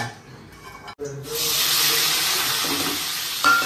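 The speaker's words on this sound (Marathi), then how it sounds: "तर आता फोडणी देते. फोडणीला हे आहे तमालपत्र, ही मिरे आहे आणि टाकलेले आहे 2 लवंग." After a brief quiet start, a bay leaf, black peppercorns and two cloves drop into hot oil and burst into a loud, steady sizzle that holds for a few seconds, with a faint clink near the end.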